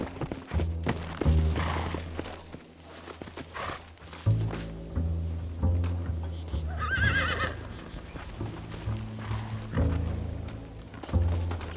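Horses in the video game Red Dead Redemption, set in Mexico: several loud neighs and whinnies over low snorting and the thud of hooves, with a brief high whinny in the middle.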